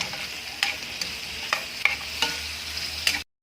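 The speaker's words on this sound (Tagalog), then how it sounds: "Halo ulit natin yan mga idol" Mixed vegetables with red onion sauté in a hot pan, a steady sizzle broken by a few soft scrapes and knocks of the spoon stirring, then a sudden cut to silence at the end.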